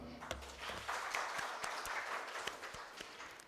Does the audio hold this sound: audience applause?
yes